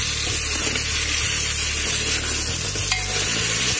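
Stuffed round gourds (tinda) coated in leftover masala being stirred in a pan, a dense close frying hiss with soft scraping movements and a brief clink near the end, steady and fairly loud.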